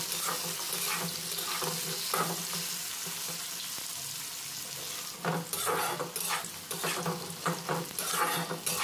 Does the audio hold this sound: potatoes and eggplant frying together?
yes